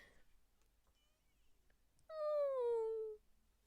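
A single drawn-out cat meow from the Twisted Wonderland anime, clear and fairly loud, falling slightly in pitch over about a second after near silence.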